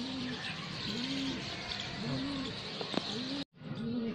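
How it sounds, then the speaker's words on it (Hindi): Madrasi pigeons coo repeatedly at a loft in the morning, the soft rolling calls recurring steadily among faint chirps over a constant background hiss, with a brief cutout near the end. "15 कबूतर दिख रहे।"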